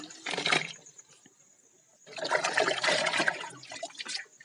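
Freshly harvested palmyra tubers being rinsed in water, with a short splashing burst, a quiet pause, then a longer stretch of sloshing and trickling water close by.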